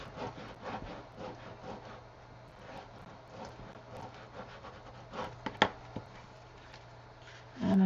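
Paper is burnished onto an 8x8 scrapbook album page with repeated soft rubbing and scraping strokes, close and quiet, followed by a few small taps and a louder brush at the end.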